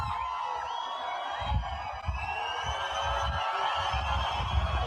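A vast outdoor crowd of Iranians roars and cheers for Senator Lindsey Graham, a continuous distant wash of voices with scattered whistles and shouts rising through it.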